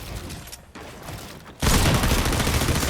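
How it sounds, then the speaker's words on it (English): Pump shotgun shots in the Fortnite video game sound as a loud, sudden blast that swells into a dense, sustained roar of gunfire after a quieter stretch of noisy game sound. "Can't be whiffing my pump shots like that."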